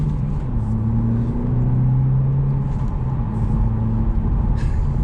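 A 2021 Hyundai Elantra N-Line's turbocharged engine pulls hard under acceleration, a steady low droning growl that rises slightly in pitch, heard from inside the car over road rumble.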